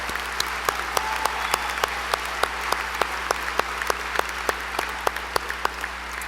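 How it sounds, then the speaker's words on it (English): Steady applause from the audience at an honors convocation, even and sustained, with sharper individual claps standing out over a low constant hum. "Please join me in a great round of applause."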